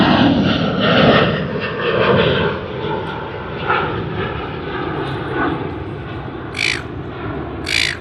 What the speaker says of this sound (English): That's the Sydney to Auckland service on Jetstar Airbus A321.